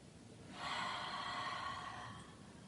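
A yoga student, practising yoga for sleep and meditation, takes one slow, soft, breathy inhale that swells and fades over about two seconds, close and quiet, with no talking.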